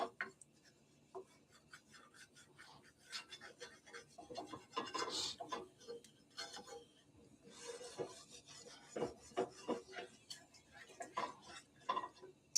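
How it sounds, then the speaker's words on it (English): A pan being scraped clean in a home kitchen, with intermittent rasping, rubbing strokes of varied loudness and short scuffing bursts, near and fairly quiet, no talk. "And this is how I like to clean this pan. Just scrape it around."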